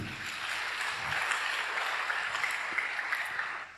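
A church congregation applauds at an evening service, a soft, steady wash of clapping that sounds distant and fairly faint throughout.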